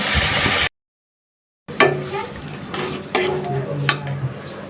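Fresh koi fish sautéing in a pan, with a spatula clinking and scraping against the metal in scattered strokes over a soft sizzle, close and moderately loud after a brief silence.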